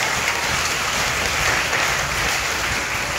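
A school audience at an inter-house English drama competition claps for all the houses, a steady, dense wash of applause throughout with no clear voices.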